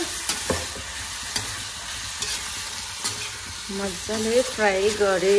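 Biryani gravy fries in a pan and is stirred, giving a hiss with scraping utensil strokes at intervals, and a voice rises over the sizzle near the end.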